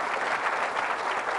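Loud, steady applause from a congregation at a Catholic healing Mass, continuous dense clapping with no pauses, close and filling the room throughout.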